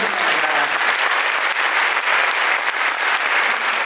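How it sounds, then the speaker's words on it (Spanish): A theatre audience at a Nutcracker performance in Teatro Juárez, Zitácuaro, applauds, and dense, even clapping from a large crowd fills the clip at a steady loud level. "no hay mayor reconocimiento que el aplauso de todos ustedes"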